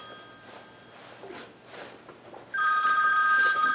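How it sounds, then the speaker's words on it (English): A telephone starts ringing partway through, a loud, steady electronic trill that cuts in over a quiet room with faint background movement. "I'm sorry, my phone's ringing."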